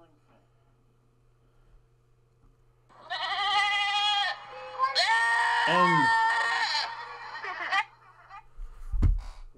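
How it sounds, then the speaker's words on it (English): Several goats bleat loudly in a run of wavering, drawn-out cries lasting about five seconds, followed by a short thump. A single word is spoken just before. "why did I hear goats?"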